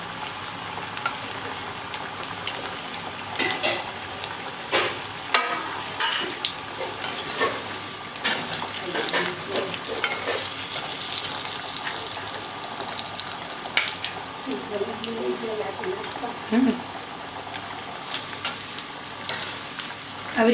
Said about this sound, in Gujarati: આપણું જે તેલ ગરમ છે એમાં આપણે રતાળુને તળી દેવાના છે.